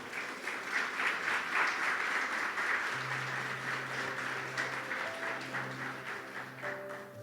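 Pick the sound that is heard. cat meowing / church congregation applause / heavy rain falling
church congregation applause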